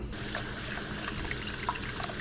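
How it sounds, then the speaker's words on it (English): Water running into a kitchen sink while rice is rinsed, a steady soft trickle and splash with faint sloshing, quiet and close, no talking. "we're going to take our rice over to the sink and we're going to wash it."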